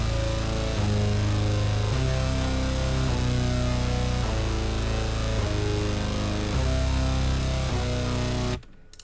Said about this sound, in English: I got my bass down. This is what it sounds like.